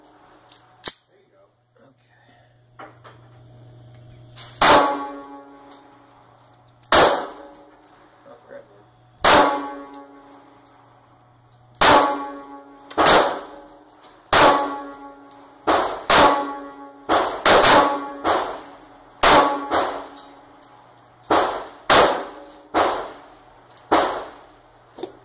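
A Ruger LC9 pistol fires around twenty sharp, loud shots at an outdoor range, single reports at first, then quicker clustered volleys, each with a brief ringing decay.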